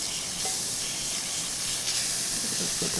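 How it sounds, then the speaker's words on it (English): Burger patties sizzle in a hot oiled pan with a steady, close crackling hiss that runs throughout, with no voices over it. "Listen to that sizzle."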